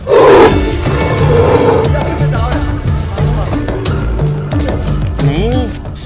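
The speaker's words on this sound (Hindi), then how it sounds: "खेत में खाद डालने गए ग्रामीण ने जब ये दहाड़ सुनी तो उनका हृदय कांप गया" A wild animal trapped inside a farm well roars and growls, loud and close with a hollow, echoing quality, the rumbling calls repeating over a steady low background.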